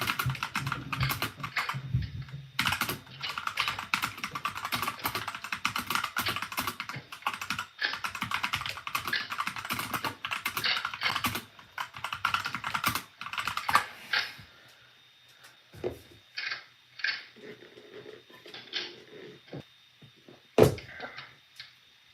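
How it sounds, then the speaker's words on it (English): Rapid typing rattles across a computer keyboard for about fourteen seconds in dense bursts of clicks, then slows to scattered keystrokes and a few louder taps. "dragon fingers on the keyboards"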